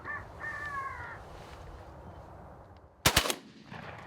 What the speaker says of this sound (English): shoot all the crows we want